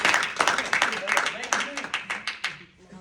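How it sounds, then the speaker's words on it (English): An audience claps for Tim in a quick burst of dense, close hand claps that fades out after a few seconds, with a voice talking over it. "Clap it up for Tim real quick."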